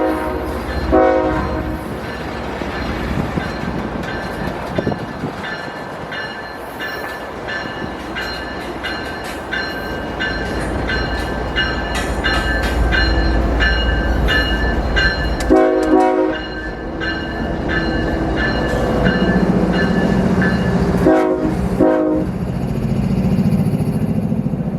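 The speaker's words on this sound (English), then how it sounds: "this northbound grain train was also leaving" A northbound grain freight train leaves a rail yard in Memphis, Tennessee, its horn sounding in repeated loud blasts over a continuous rumble and clatter of rolling cars and engine, heard from close by.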